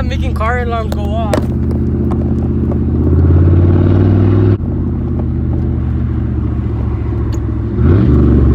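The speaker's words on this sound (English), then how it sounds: "Ooh, I like that little pops at the end." Car with a newly fitted exhaust revving hard, a deep throaty engine roar that holds and swells, then drops off abruptly midway before picking up again with a brief burst near the end; a voice is briefly heard at the start.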